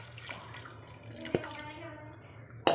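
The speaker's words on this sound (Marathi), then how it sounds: "आता मी यामध्ये टाकत आहे पाणी" Water poured into a cooking pot of pulao sitting over oil, a faint splashing and dripping with a couple of sharp knocks, under a faint voice.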